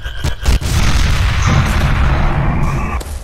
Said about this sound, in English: Wow, that explosion.